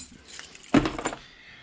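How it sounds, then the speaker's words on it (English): A bunch of keys jangles briefly up close, a quick metallic jingle that swells and fades within about a second against a quiet background. "That's my keys."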